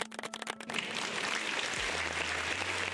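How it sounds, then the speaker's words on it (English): An audience claps in a round of applause. It starts as a few distinct claps, then swells into a steady, moderately faint wash of clapping for the rest of the moment. "Round of applause."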